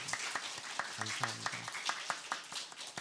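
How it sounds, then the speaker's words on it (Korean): A church congregation gives a brief round of applause during an early-morning prayer service, with scattered claps continuing under a voice thanking them. "격려와 축복의 박수 한번 했으면 좋겠습니다"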